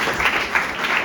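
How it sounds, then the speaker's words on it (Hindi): An audience at an entrepreneurship talk bursts into dense, steady clapping, a loud sustained wash of many hands applauding together for the full second. "इसके लिए ताली बजाओ एक।"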